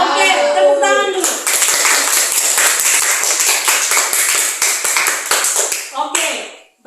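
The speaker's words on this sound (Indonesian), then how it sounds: "Oke, tepuk tangan dulu." After a short stretch of talking, a classroom of students breaks into lively group clapping that runs for several seconds, crisp and near, then fades as talking resumes.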